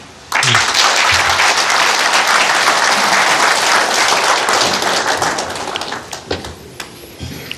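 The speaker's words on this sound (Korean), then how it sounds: "홍준표 후보를 박수로 맞아주십시오" Loud, dense crowd applause bursts in suddenly to welcome presidential candidate Hong Joon-pyo at a televised election debate, holding steady before thinning into scattered claps near the end.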